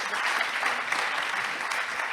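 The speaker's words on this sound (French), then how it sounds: "Je vous propose de l'applaudir d'abord" Dense, continuous applause from a conference audience, many hands clapping at once into an even wash of sound that holds steady for a couple of seconds.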